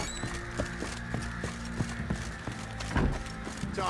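Horse hooves clip-clop at a steady walking rhythm in the fantasy role-playing game The Witcher 3, fairly faint beneath music and ambient sound.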